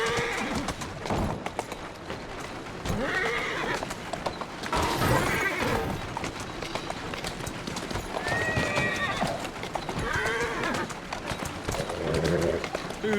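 Horse hooves clip-clop steadily on a street in the Assassin's Creed Syndicate video game, with whinnies and a voice talking over the hoofbeats throughout.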